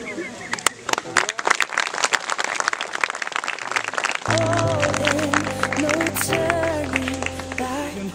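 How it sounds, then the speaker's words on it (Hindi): Guests at a Christian wedding applaud as the bride's veil is lifted, a patter of clapping that continues under someone speaking over a microphone. "आप लोग जोरदार ताली मार करके आप जो है हौसला अफजाई कीजिएगा"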